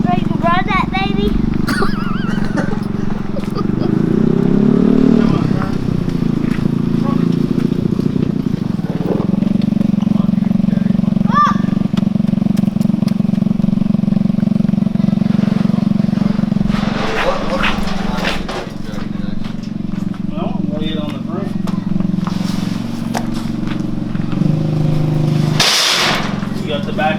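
A homemade four-seater go-kart engine runs steadily and loud through the whole stretch, its low drone rising and falling slightly with throttle, with voices talking over it.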